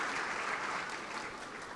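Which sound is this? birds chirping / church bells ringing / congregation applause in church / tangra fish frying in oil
congregation applause in church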